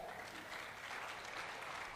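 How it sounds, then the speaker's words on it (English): Audience applause at Technext Coinference 2023, a blockchain conference in Africa, rises as a steady wash of clapping from a large crowd, fairly distant and even. "A round of applause, please."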